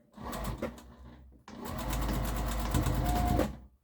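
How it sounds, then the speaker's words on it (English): A sewing machine stitches a harvesting apron in two close, loud runs, a brief burst and then a longer steady whirring stretch, with no talking. "stitching it all around that opening is going to reinforce that area"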